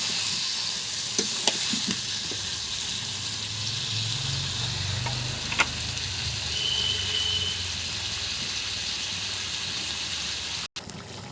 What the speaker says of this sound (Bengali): চাল কুমড়া দিয়ে দিয়েছি, এখন ভালোভাবে কষিয়ে নেব।